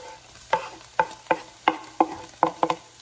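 Garlic going into a hot pan for Indonesian mie goreng, stirred with a utensil: about nine sharp, close scraping clacks at an uneven pace over a faint sizzle, with no voices.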